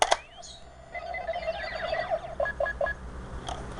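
A Gosei toy morpher's electronic tones warble briefly, then three quick, evenly spaced error beeps sound in a row, fairly quiet and close.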